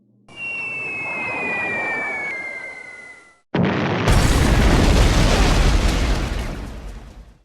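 Bombs-away sound effect in a B-17 Flying Fortress board game: a descending whistle of falling bombs gives way, after a brief gap, to a loud, rumbling blast that roars on and slowly fades.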